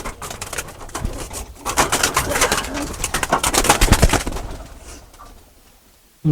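Pigeons coo at a farm beside a river, where cattle, goats and many pigeon breeds are kept, a dense layered chorus of soft throaty calls that swells and then thins out toward the end.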